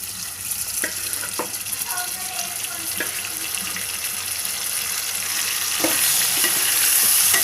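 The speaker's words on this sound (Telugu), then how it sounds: "ఇది కలిపి పెట్టుకున్న కర్రీ ఉంది కదండి చికెన్ది, అది ఇందులో వేసేస్తున్నానండి." Chicken curry mixture with onions, green chillies and yogurt is added to hot oil in a cooker and stirred, giving a close sizzle with scattered scraping and clinking of a spoon against the pot.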